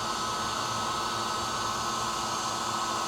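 Heat gun blowing a steady, continuous hiss of hot air onto a new part during a Harley-Davidson Road Glide 3 trike install, close and unbroken with no talk.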